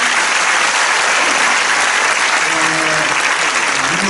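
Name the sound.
audience applause at inauguration ceremony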